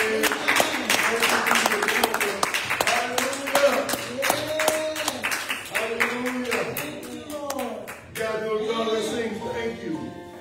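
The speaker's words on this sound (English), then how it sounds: "let's give God a clap offering" A church congregation gives rhythmic clapping as a clap offering, steady and close, with singing or sung voices running through it until it thins near the end.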